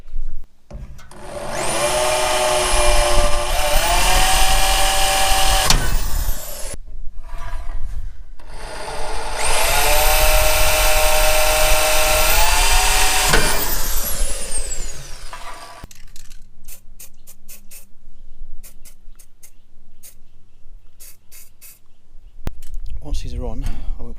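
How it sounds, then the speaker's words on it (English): A power drill punches a hole through the metal of an Outback BBQ being restored, with two long, loud whining bursts of motor and grinding, separated by a pause and followed by quieter handling clatter. "So let's do the drilling first."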